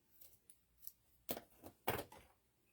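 Scissors trimming fabric and elastic while sewing a breastfeeding bra: a quiet series of crisp snips, the last two sharper and louder, close up with no talking.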